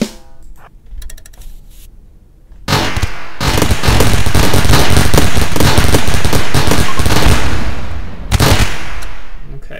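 Explosions and crackling gunfire from a raid in the RimWorld game, with a burst of shots followed by a loud sustained barrage of blasts that destroys a powered turret and part of a door, then a brief tail of scattered shots.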